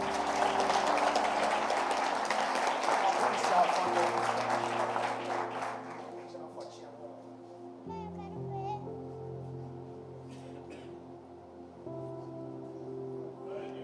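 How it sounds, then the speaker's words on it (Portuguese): A church congregation at a Sunday celebration service applauds for about six seconds, the clapping fading into murmurs, children's voices and soft background sound with organ-like tones. "Você pode aplaudir Cristo?"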